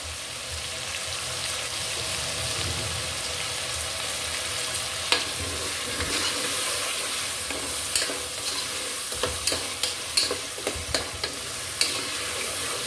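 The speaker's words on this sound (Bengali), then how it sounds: "ভালো করে ভেজে নিব" Potatoes fry with salt and turmeric in a pan for a dried ribbonfish and jackfruit seed curry, a constant crackling sizzle broken by frequent clacks and scrapes of stirring that grow busier toward the end, with no talking.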